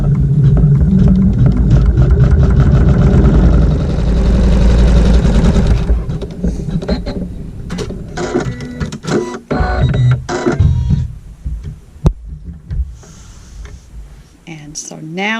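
A sewing machine stitching a tack down on quilt fabric for a French braid block, a steady loud mechanical whir with rapid rhythmic clatter that slows and becomes choppier halfway through, heard close.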